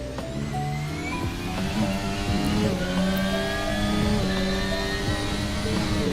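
Race car engine in Assetto Corsa played in VR, a loud continuous whine that climbs and falls in pitch as it revs and shifts through gears, with no talking.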